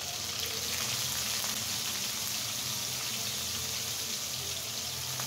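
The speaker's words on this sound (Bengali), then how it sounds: "এখন এটা আমি খুব সুন্দর করে ভেজে নেব।" Chopped onion and green chili fry in hot oil with a dense, continuous hiss and crackle that stays loud and even throughout.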